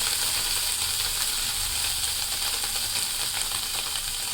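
Chicken pieces frying in hot oil, a dense, steady sizzle that fills the whole moment, loud and close with no voices over it.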